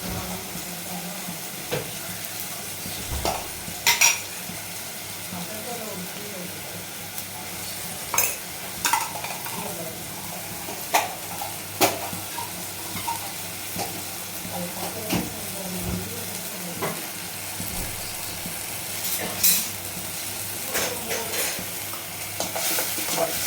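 Ginger garlic paste fries in a pan for channa masala, a steady close sizzle punctuated by repeated sharp clinks and scrapes of stirring spread irregularly across the stretch.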